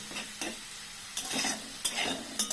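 Sliced onions fry in hot oil into crisp beresta, a steady close sizzle punctuated by several sharp stirring scrapes and clinks of a spatula against the pan.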